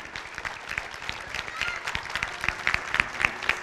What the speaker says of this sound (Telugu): so a big round of applause for the teacher Lakshmi గారు